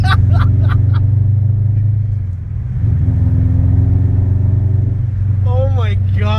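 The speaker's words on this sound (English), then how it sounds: "Oh my god, the rumble's real." Deep, loud exhaust rumble from a Scion FR-S fitted with unequal length headers, a steady burbling low drone idling close by, with people talking over it.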